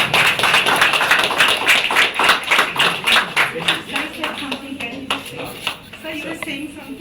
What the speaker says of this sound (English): Please give a big hand of applause to Mr. Yothishka